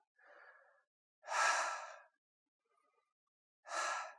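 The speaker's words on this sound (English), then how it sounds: "I want to see if you can breathe." Deep breathing from the stomach during a vocal warm-up, with three separate breaths, the middle and last louder and airier, and silence between them.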